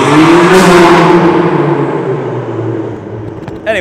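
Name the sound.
car driving by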